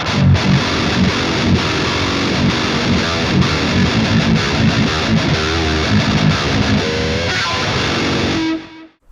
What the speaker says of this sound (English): instead of me playing distortion the whole time through